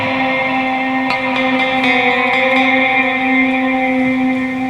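An icy, swelling tone from a shoegaze guitar effects pedal on a pedalboard rings out as sustained, reverberant chord layers with a steady hum, loud and continuous with faint pick strikes throughout.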